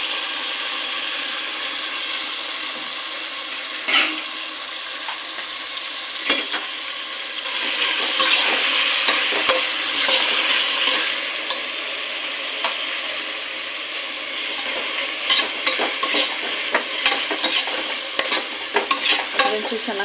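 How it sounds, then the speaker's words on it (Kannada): Ground masala for fenugreek pulao sizzles in a pan, close up, with repeated scraping strokes of a spoon stirring it, steady frying hiss under the irregular clatter. "ಇವಾಗ ನಾನು ಇದಕ್ಕೆ ರುಬ್ಬಿಟ್ಕೊಂಡಿರೋ ಮಸಾಲೆನ ಸೇರಿಸ್ತೀನಿ."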